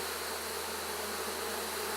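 Honeybees swarm over honey super frames, one of them newly capped, during a July honey extraction: a dense, steady buzzing hum, close and continuous, with no voices.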